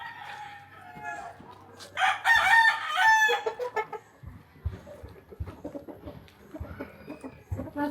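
A rooster crows loudly once, followed by chickens clucking softly nearby, with faint rustling in the background.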